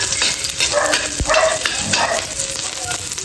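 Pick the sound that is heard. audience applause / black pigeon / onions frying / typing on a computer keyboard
onions frying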